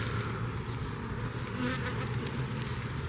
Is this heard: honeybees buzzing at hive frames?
yes